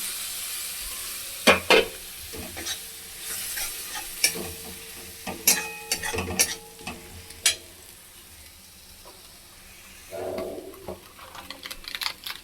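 Grated tomato and ground spices frying in a pan for patal malai kofta, with soft sizzling under irregular sharp clinks and scrapes of a spoon stirring, a few louder knocks, no talk.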